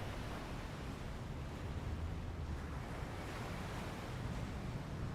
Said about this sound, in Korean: 밤에는 파도 소리가 더 잘 들리거든요.